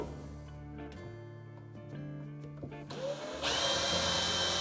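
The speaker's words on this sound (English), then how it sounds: "I'm gonna drill a little hole." A power drill whirs up while drilling a small hole in a cabinet, a steady motor whine that rises sharply in pitch and loudness near the end as it bites in.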